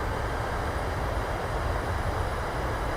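A PMDG 737 in Microsoft Flight Simulator rolls down the runway on landing with thrust reversers deployed, a steady loud broadband roar of reversed engine thrust and wheel rumble in gusty wind, with no talk.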